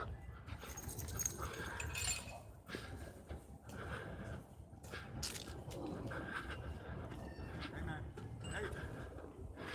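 Large dogs over thirty pounds roam a big fenced dog park in Atlanta's Piedmont Park, with scattered barks, panting and jingling amid outdoor bustle, while people talk nearby throughout.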